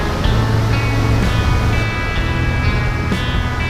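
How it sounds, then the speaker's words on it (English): Steady rushing surf of ocean waves rolling in on a Bali coast, a continuous broadband wash with soft swells, no voices. "We actually spent a fair bit of the afternoon watching these waves roll in."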